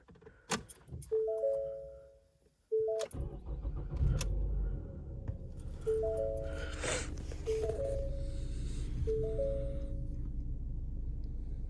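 A high-mileage 2013 Ford Fusion SE engine cranks and catches, then settles into a steady idle rumble, with a few short chime-like tones sounding over it.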